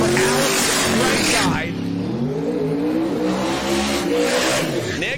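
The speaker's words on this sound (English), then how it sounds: "the burnouts officially started for Alex" Drag racing car doing a burnout at the starting line at a Sick Summer event: loud, sustained engine roar with rising and falling revs and tire noise, under a commentator's voice.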